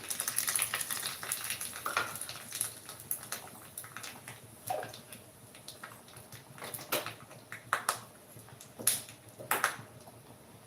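Crackling and sputtering of chilies, mustard seeds and cumin frying in hot oil, irregular pops and hisses close by, with no talking.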